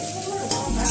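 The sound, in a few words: vegetables with sauces stir-frying in a pan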